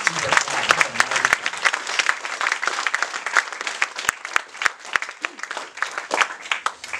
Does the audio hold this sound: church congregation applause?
yes